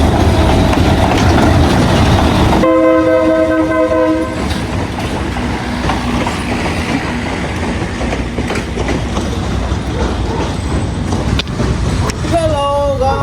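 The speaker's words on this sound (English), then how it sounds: "I think a train is coming right now." Loud, close train passes on the way toward Machu Picchu with a long steady horn blast, then continuous rumbling wheels and clatter, with a short squeal near the end.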